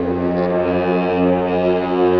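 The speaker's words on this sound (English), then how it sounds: "Can I get the war horn, please?" A war horn gives one loud, sustained blast. It holds a deep, steady tone for the whole stretch with no break.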